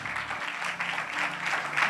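A church congregation clapping during a sermon, a brief burst of scattered applause heard faintly at a distance over a low hum, with no voices.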